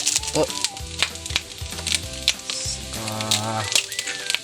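Pork innards sautéing in a pan give a steady, fairly loud sizzle with scraping and clinking from stirring, over tonal background sounds.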